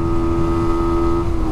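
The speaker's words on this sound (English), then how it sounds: "No point over revving it, it's just making noise, it's not actually pulling any longer." A Sinnis SM-R 125 supermoto motorcycle's engine held at high revs while riding, a loud, sustained buzzing drone with a steady pitch that dips slightly near the end, no voices.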